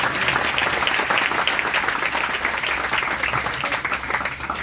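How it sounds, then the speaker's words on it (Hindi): Loud, steady applause from a church congregation during a Sunday service, dense clapping filling the whole stretch without pause. "अगर आए तब जोर से तालियां बजाओ"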